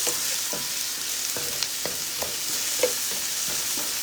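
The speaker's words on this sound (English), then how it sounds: "Just want to saute these onions and garlic just for a minute, just until onions are a little soft" Onions and garlic sauté in a pan for jackfruit tacos, giving a steady, close sizzle with scattered scraping clicks from stirring throughout, and no talking.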